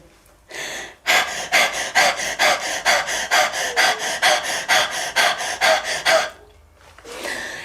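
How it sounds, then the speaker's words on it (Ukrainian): Forceful mouth breathing exercise for vocal training: about twenty sharp, rhythmic breaths in a steady pulse, close and loud, with a longer breath at the start and again at the end and no talking. "Ми дихаємо тільки ротом."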